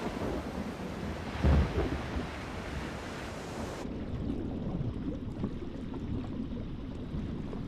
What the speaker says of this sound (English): Storm clouds bring rain, wind, and heavy seas.